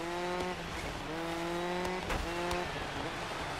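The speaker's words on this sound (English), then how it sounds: "just some of the turns are a bit sharp and it does drift" Cars in the Dirt 5 circuit race whine through sharp turns, engine tones rising and dropping with gear shifts while tyres scrub in drifts, several sweeping passes close and loud with no talk.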